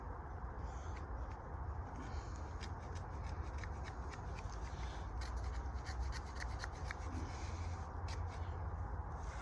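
A multi-tool blade scrapes steadily in a continuous close rasping rub, with faint quick ticking strokes layered over a low background noise.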